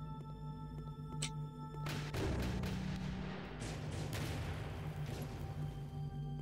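An RPG rocket launcher fires in a video game, a booming whoosh that bursts out over a constant electronic drone and humming game ambience, then rumbles on.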